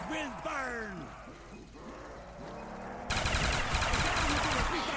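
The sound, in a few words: gunfire in zombies video game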